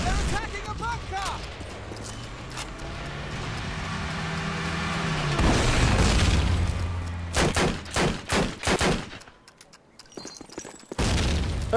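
A grenade blasts in Call of Duty United Offensive during an Italy base assault: a heavy explosion rumbles up midway, followed by sharp bursts of gunfire, with voices talking over the battle.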